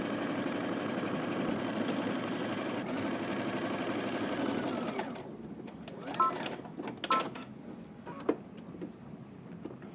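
A sewing machine runs basting stitches in one steady, continuous whir for about five seconds, then stops, leaving scattered clicks and fabric handling.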